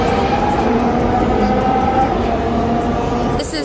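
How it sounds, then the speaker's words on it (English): Interior of a Singapore MRT train in motion, giving a steady hum and rumble with a faint tonal whine throughout, and a brief clunk near the end. "So we're gonna be taking the MRT train."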